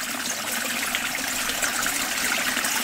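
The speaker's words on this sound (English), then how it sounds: "this water that's flowing here becomes part of the water that you see" Water flowing in a stream, a steady soft trickling and burbling wash that stays even and moderately faint throughout, with no voices.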